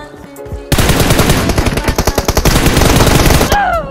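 Rapid automatic gunfire in a mobile shooter game, a loud continuous burst of rattling shots lasting about three seconds, then cutting off abruptly.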